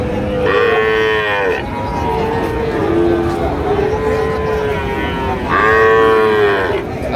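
Cattle moo at a busy livestock market in Joypurhat. There are two long, loud, close bellows, one at the start and one near the end, with lower moos and crowd hubbub between them.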